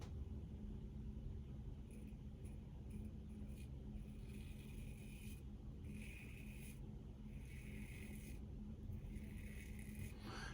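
A PAA Starling aluminum safety razor makes soft, close scraping strokes across the face on a first pass, in several short bursts over a steady low hum.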